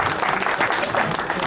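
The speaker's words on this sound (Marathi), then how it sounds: "त्यांच्यासाठी पण टाळ्या वाजवल्या पाहिजे" A crowd at the Shri Datta Janmotsav celebration bursts into brief, dense applause, a thick, even wash of many hands clapping together.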